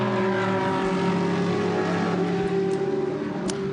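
The leading race car in the final minutes of the Spa 24 Hours passes with a loud, sustained engine drone, the pitch holding steady over a continuous roar.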